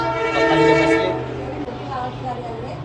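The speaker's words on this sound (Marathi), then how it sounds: "पहिले ट्रेन जाऊ दे तिकडे ट्रेन येते" A train horn blares loudly over a low rumble of rail traffic, fading slightly toward the end.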